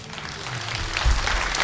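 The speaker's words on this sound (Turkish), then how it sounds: "özellikle Zeynel Parmaksız'ı şöyle güçlü bir şekilde alkışlayın" A crowd at a Sinop disability association event claps in a dense, steady wash of applause that grows slightly louder partway through, heard briefly and fairly close.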